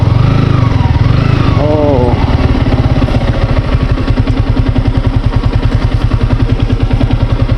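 Motorcycle engine running close by on an off-road Nepal road trip, a loud, rapid, regular thumping putter with a brief rising rev near the start, and a person talking over it.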